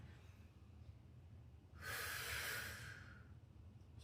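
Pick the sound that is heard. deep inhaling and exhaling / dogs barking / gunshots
deep inhaling and exhaling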